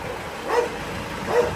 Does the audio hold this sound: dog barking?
yes